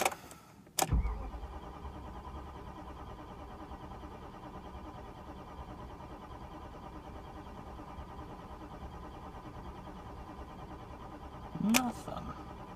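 A 1997 BMW 740iL's starter cranking on a cold start after five months of sitting without catching, a click followed by a long, steady, faint whirring drone that ends with another click.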